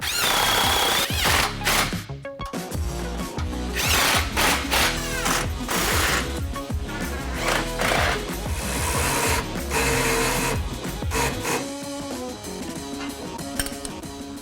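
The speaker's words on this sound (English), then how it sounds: "Tighten the clamps on the muffler and the X-pipe." Ratcheting socket wrench tightening exhaust clamps on the muffler and X-pipe of a Ford F-150 Raptor during a Flowmaster cat-back exhaust install: rapid, close clicking in bursts with brief pauses and metallic knocks.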